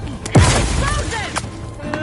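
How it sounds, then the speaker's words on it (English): A loud booming explosion in the video game The Outer Worlds 2 bursts in sharply and rumbles on under shouted in-game voices and battle noise. "Explosion!"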